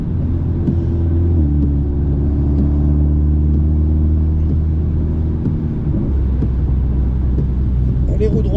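Racing car engine at the Magny-Cours circuit, a loud sustained droning rumble heard from inside the car while held on light throttle, the steady harmonic tone shifting pitch slightly partway through.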